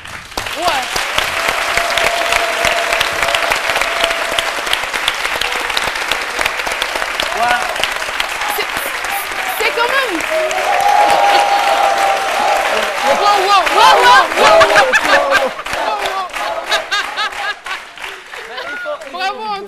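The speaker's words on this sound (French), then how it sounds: "on doit se lever pour applaudir ce chien" A French daytime TV studio audience applauds warmly in a sustained, dense round of clapping that swells near the end, with a presenter's voice talking over it.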